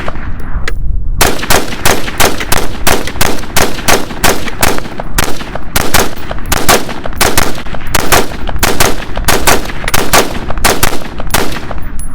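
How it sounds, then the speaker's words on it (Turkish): A Daniel Defense DDM4 V7 LW rifle fires a rapid string of loud, sharp shots at a shooting range, evenly spaced cracks repeating about twice a second for over ten seconds, very close and dominant. "biraz hızlı bir şekilde bir şarjör daha atalım"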